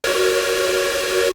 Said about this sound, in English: And then turn up the amount of noise and the number of voices so it sounds like this.